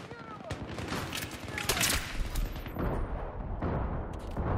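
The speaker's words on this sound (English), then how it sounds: "There's bombs and shit going off everywhere." Video game combat brings rapid bursts of gunfire and explosion booms close and far, sharp cracks repeating irregularly over a rumbling background.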